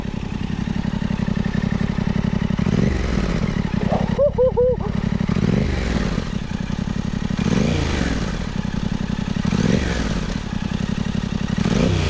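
A Yamaha R7 motorcycle fitted with a new exhaust system idles with a loud, rumbling, throbbing note and is revved several times in rising bursts, close by, while a person speaks briefly over it.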